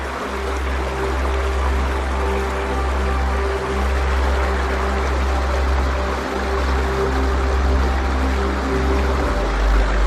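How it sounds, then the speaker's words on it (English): Water flows steadily at the Silver Creek waterfall on the Niagara Escarpment, a continuous broadband rush with a low rumbling undertone, even and unbroken throughout with no voices. "Just the sound of the water is comforting."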